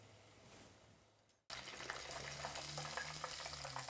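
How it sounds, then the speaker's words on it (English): Pieces of tofu frying in hot oil give a steady, close sizzle with bubbling crackle that bursts on suddenly as they drop in and holds loud throughout, with no talk. "you'll drop it in the hot oil. And you want to move that around just a little bit."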